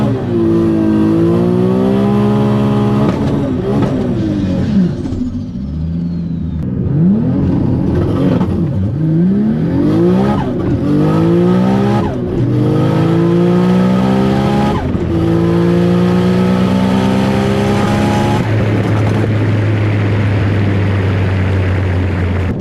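Nissan Skyline sedan at a GTR festival drag run, engine howling loudly as it accelerates hard through repeated rising gear pulls with brief dips at each shift, then settling into a steady high drone, no talk.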